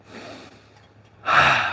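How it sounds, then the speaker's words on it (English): Forceful breath work outdoors in cold air, a steady hiss of breathing followed by a sharp, loud inhale-like rush near the end, close to the microphone. "We got the Wim Hof breathing out here in the cold."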